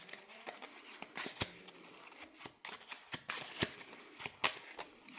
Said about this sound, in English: you would shuffle these 4 cards